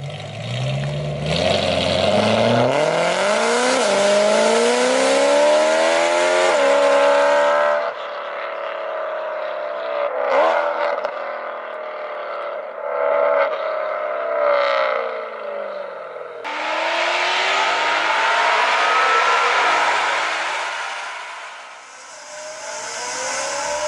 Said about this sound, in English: The supercharged E92 M3.